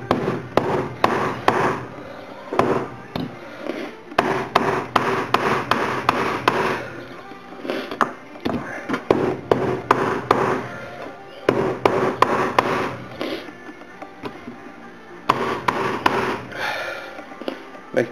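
A metal mount for a custom touch-screen setup in a second-generation Dodge Ram is hammered straight in a garage, with rapid bursts of sharp, close blows separated by short pauses.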